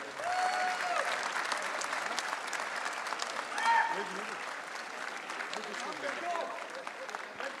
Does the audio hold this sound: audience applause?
yes